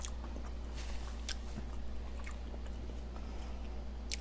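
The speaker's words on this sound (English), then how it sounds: "It's so crunchy, my jaw. My jaw is hurting" Close-up chewing of a crunchy Carl's Jr. bacon cheeseburger, with irregular crisp bites and wet mastication sounds over a steady low hum, no talking.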